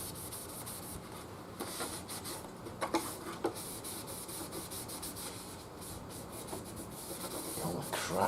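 A cloth with alcohol is rubbed over the surface of a bass guitar to clean it, making a close, continuous soft rubbing and wiping hiss with a few sharper scuffs, with no talking.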